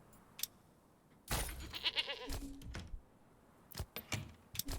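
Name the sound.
goats bleating in the video game Manor Lords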